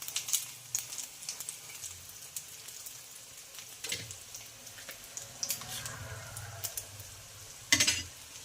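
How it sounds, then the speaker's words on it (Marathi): A soft, steady sizzle of egg-coated bread frying on a hot griddle, with scattered crackles and a sharper scrape of a utensil near the end. "अशाच पद्धतीने आपल्याला ब्रेड फ्राय करून घ्यायचे आहे"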